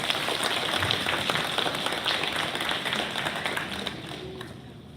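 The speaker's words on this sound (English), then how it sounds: "give your family and friends a round of applause for their support" A graduating class at the BLE 22-07 graduation ceremony applauds its families and friends, with a dense, continuous wash of clapping from a crowd that slowly fades toward the end.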